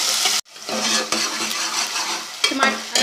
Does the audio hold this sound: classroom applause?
no